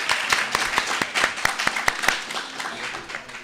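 Applause from a debate audience welcoming a team, with several sharp individual claps standing out over a softer bed of crowd clapping that tapers off toward the end.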